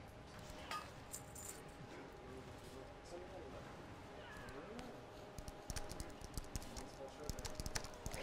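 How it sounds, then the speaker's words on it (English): Clicky computer keyboard typing during a Warcraft game session, quiet and intermittent at first, then a denser burst of keystrokes near the end, with someone talking over it. "My typing sucks."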